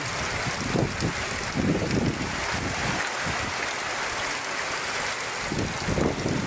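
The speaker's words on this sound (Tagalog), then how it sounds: "Malakas yung hangin" Strong storm wind blows steadily against the microphone, with low rumbling gusts swelling and fading in waves while bamboo is being whipped about.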